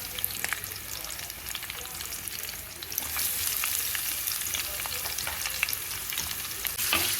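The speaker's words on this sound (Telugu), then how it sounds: "ఈ తిరగమాత వేగిపోయిన తర్వాత ఇందులో ఉల్లిపాయ ముక్కలు వేసుకున్నామండి" Onion pieces frying in a tempering with curry leaves for an aloo kurma, a steady dense sizzle with crackling pops that grows a little louder midway, continuous and close, with no voices.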